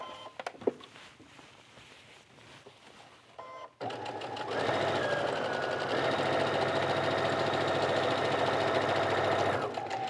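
A sewing machine stitches a 5/8 inch seam around a tunic neckline: after a few quiet handling sounds, the motor starts and runs in a steady, loud, close whirring hum for about six seconds before stopping.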